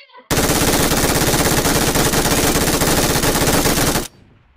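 A no-recoil gun in BGMI fires one long, unbroken automatic burst, loud and rapid for about four seconds before cutting off abruptly.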